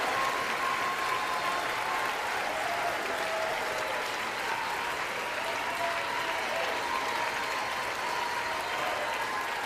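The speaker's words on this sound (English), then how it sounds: "Don't applaud that." Audience applause in the chamber during the State of the Union address, a continuous, even wash of many people clapping heard at moderate distance, with no breaks.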